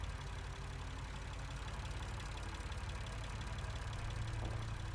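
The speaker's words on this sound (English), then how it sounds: "Must be the generator." A diesel generator engine in the video game Lost Horizon runs with a steady, low, droning hum at a moderate distance, continuous and unchanging throughout.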